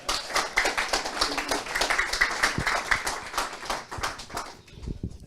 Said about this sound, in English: So we'd like to just a light little applause for Simon.